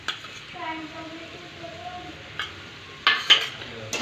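A spoon scrapes and clinks against a pan while chilli sauces are stirred into hakka noodles, a few sharp metallic knocks toward the end over a quiet background, with a voice speaking over the stirring.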